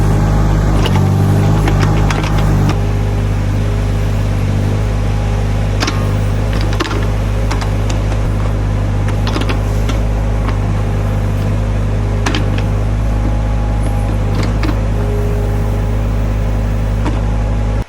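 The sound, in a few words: Yanmar SV10 1-ton mini excavator engine revving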